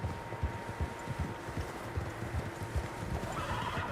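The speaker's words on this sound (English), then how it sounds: "Horses, quite a few of them." Several horses gallop in the Red Dead Redemption 2 video game, a fast rhythmic clip-clop of hooves on open ground, moderately near and steady throughout with no talking.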